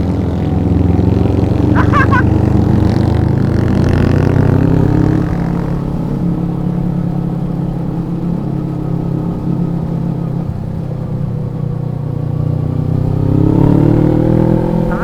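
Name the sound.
motorcycle engine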